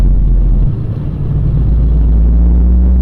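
The Jake brake on a Paradiso LDT G7 8x2 bus in Euro Truck Simulator 2 gives a loud, deep, continuous engine drone and rumble. It holds steady throughout, alone with no talk.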